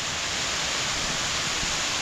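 A small mountain waterfall swollen by monsoon rain rushes nearby in a constant, loud, broadband roar of churning water, unbroken and without voices.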